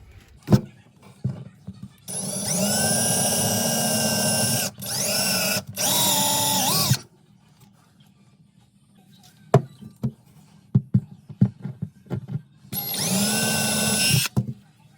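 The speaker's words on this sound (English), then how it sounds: "I'm going to drill a couple pilot holes for the screws" A power drill whirs in three bursts drilling pilot holes for mounting screws of a main water filter, pauses amid small knocks and clicks, then drills once more, close and loud.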